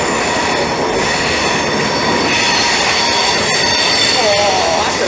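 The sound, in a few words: Class 465 train departing London Bridge station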